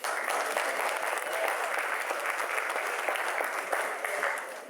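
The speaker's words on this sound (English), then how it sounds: "give yourselves a round of applause." A community crowd at a small-town Saskatchewan talent night claps steadily in a dense, sustained round of applause that fades slightly at the end.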